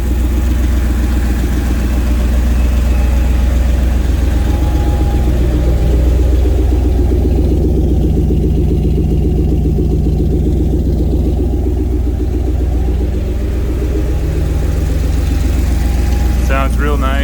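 A turbocharged, fuel-injected Ford 460 V8 with an S480 turbo runs steadily close by, a loud, continuous deep rumble that holds an even idle throughout.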